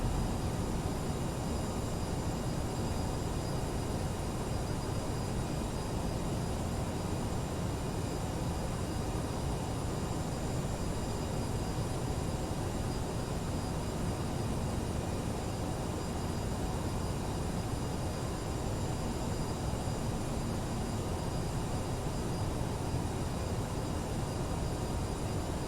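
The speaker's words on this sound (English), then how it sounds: "Okay, the airplane starts the final turn." Steady broadband drone of CRJ700 jet airliner engines on final approach into Aspen in a flight simulator, a constant loud roar with a faint tonal whine on top, unbroken for the whole stretch with no talk.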